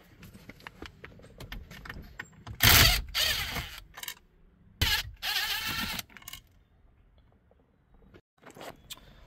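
Tools work on the two bolts holding the screen in an Infiniti G35/G37 dash, with scattered clicks and scrapes broken by two louder, longer rasping bursts, close by, and no speech.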